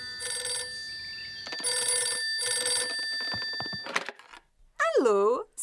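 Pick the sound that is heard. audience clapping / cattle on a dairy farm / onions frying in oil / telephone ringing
telephone ringing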